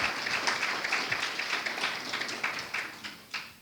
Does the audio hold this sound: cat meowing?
no